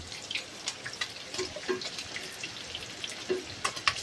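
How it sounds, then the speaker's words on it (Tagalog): Vegetables sauté in hot oil for chopsuey, a close, steady sizzle broken by scattered pops and crackles, with no voices over it. "Yan, nagigisa na."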